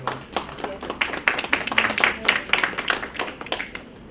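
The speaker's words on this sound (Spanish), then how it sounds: "a quien recibimos con fuertes palmas." An audience at a seminar on community environmental education applauds to welcome a speaker, a fairly sparse, uneven clapping of moderate loudness that rises in the middle and thins toward the end.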